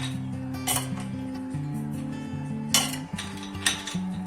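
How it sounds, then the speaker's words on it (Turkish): Ice cubes clink and clatter into a glass for a homemade iced coffee (frappuccino), with sharp rattling bursts over a sustained tonal hum of background music. "Sonra bolca buz ekliyoruz."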